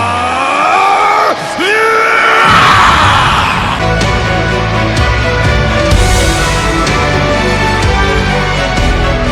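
Vegeta in a Dragon Ball animation yells as he powers up, a long, loud, strained scream that swells over a roaring, dense energy rumble and continues for several seconds.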